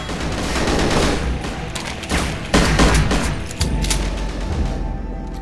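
Loud, dense gunfire from Goldeneye Source in a team deathmatch on the Bunker map, a sustained fusillade of shots with sharper bursts and booms breaking through, continuous across the whole stretch with no talk.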